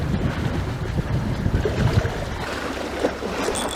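Strong wind gusting over the sea during a fishing trip, a loud, continuous broadband roar of buffeting air on the microphone mixed with water noise, with no speech.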